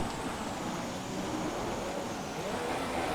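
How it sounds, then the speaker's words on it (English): Formula 1 car engine in a racing video game on a wet Singapore track on dry tyres, a steady high, strained engine drone held at high revs without pause, loud and continuous. "My poor engine, I'm revving the hell out of it."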